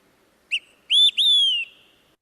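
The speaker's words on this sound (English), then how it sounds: "So let's hear the olive-sided flycatcher." An olive-sided flycatcher sings once, a short clear note followed by two longer, slurred whistled notes, loud and close in a quiet setting.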